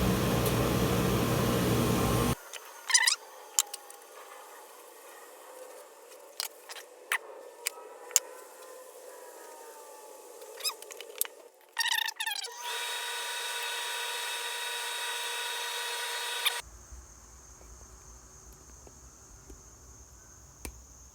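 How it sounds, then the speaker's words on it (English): A power sander fitted with 3-inch hook-and-loop discs works a turned end-grain wood bowl, a loud steady whine in separate stretches broken by quieter gaps of small knocks and handling noises. "Power sander, 3-inch discs, hook and loop."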